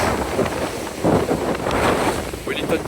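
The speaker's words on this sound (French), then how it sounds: "Il y a pas mal de vent." Strong wind buffets a ferry deck on a crossing from Wellington toward New Zealand's South Island, a steady loud rush and roar of gusts over the boat's water noise, with no pauses throughout.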